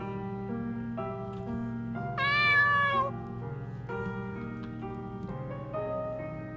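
A stray cat in a video game meows repeatedly over steady background game music, with one louder, drawn-out cry in the middle.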